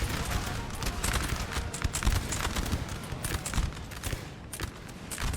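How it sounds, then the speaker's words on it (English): Musket volleys crackle in Napoleon: Total War, with dense bursts of battlefield gunfire and clatter running continuously and at a fairly loud level through the whole stretch. "that's a punishing volley"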